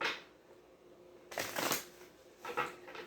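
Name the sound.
shuffling tarot cards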